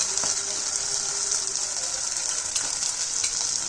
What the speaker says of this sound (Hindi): अब मैं इसमें डालूंगी ऊपर से 2 चम्मच घी